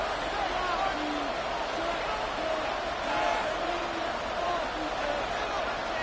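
Steady stadium crowd roar fills a football game in Tampa Bay on a third-and-inches play, a dense continuous wash of cheering and babble with faint whoops rising above it throughout.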